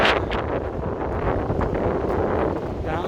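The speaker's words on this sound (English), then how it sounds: "Very windy, ladies and gentlemen." Strong wind gusting along a downtown Chicago street on a foggy, rainy day, a loud continuous roar and buffeting against the microphone throughout.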